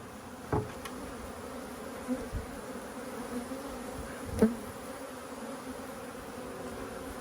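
A steady, low hum of many honeybees buzzing close by on hive frames, with a few soft bumps and knocks over the drone.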